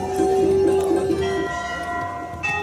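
Temple bells ring at Chitai Golu Devta temple near Almora, where countless bells hang: a few bright metallic strikes whose clear tones sustain and overlap, then decay under a faint background murmur.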